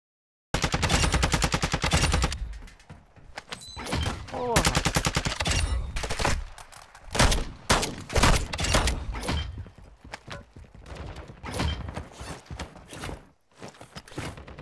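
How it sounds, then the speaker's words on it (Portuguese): Dense gunfire from Warzone 2.0 DMZ: rapid automatic bursts and single shots crackle loudly and almost nonstop, some close and sharp, others more distant, with faint footstep-like sounds between volleys. "Poxa, que tiroteio é esse, mano?"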